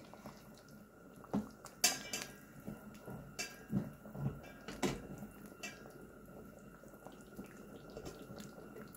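A spoon scraping and knocking against a pot of tomato sauce now and then, a few clinks over a quiet bubbling background.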